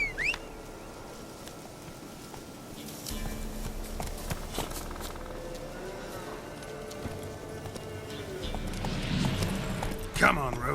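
Roach, the horse in The Witcher 3, walks with soft clip-clopping hooves beneath character dialogue and game ambience, with a louder burst near the end.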